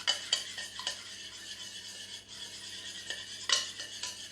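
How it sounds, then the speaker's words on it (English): Chili flakes, cumin and paprika stirred together for a dressing, a soft continuous scraping of a spoon around a bowl with a few brighter clinks, close but quiet, no voices. "I'm just going to give those a stir around."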